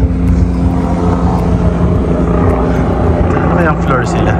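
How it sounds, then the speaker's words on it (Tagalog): A helicopter passes overhead in snowy Chamonix, a loud, continuous low rumble and drone that persists throughout while people talk nearby over the engine noise. "helicopter"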